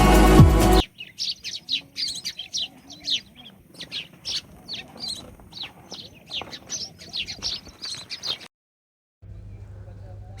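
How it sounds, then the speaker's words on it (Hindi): Small birds chirp and tweet in rapid, overlapping bursts in the quiet Balochistan mountains in the morning, fairly close and steady for several seconds. A loud burst of noise comes before the birdsong, and a low hum follows it. "खामोश पहाड़ी के दरमियान चहचहाती चिड़ियों की आवाज़ें एक अजीब सुकून देती है।"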